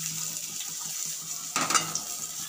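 Fried parse fish is lifted out of hot oil in a pan: soft sizzling and oil bubbling continue while a utensil scrapes and clinks against the pan midway.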